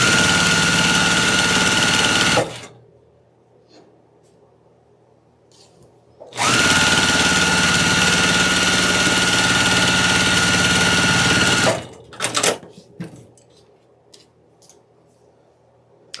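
A sewing machine stitches two fabric strips together with a quarter-inch seam. It runs as a steady, close mechanical whir in two long bursts separated by a pause, followed by short stop-start runs.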